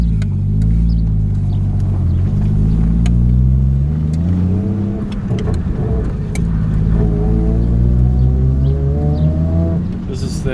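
A Nissan 180SX with a worn, noisy gearbox, driven on the road: steady engine drone with rising and falling revs through the gears, a loud continuous rumble from up close.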